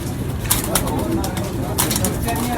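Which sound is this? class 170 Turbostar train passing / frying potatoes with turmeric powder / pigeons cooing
pigeons cooing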